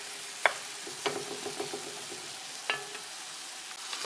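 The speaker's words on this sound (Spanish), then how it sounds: "Vamos moviendo la carne, que ya se cocinó de un lado." Pancetta and meat for a lentil stew frying over high heat in a pan, a steady faint sizzle with occasional scraping stirs and small clacks of a utensil, no voices.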